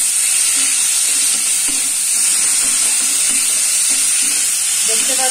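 Fish curry with fried eggplant and potato gets stirred in a pan, loud sizzling hiss over repeated scraping strokes of a spoon, close and continuous.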